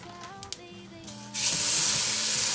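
Ground beef and onion hitting a hot stovetop soup pot, a sudden loud, continuous sizzling hiss that bursts in after a quiet, humming moment and holds steady.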